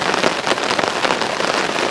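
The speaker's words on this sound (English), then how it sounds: "It's supposed to be showers today. This seems like more than showers." Heavy rain pours down steadily, a dense, loud hiss of drops pattering on surfaces close by, continuous and unbroken with no voices.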